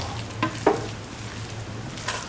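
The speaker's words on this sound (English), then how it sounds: "Mix the rice thoroughly and let it cook for" A spoon stirring cauliflower, potato and coconut milk rice in a pan: a couple of sharp scrapes near the start and one later, over a faint steady sizzle.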